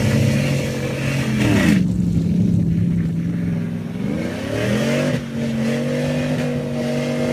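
Heavy duty truck engine revving hard while doing donuts, a loud close roar with pitch sweeping down, holding low, then climbing again, continuous with no talk.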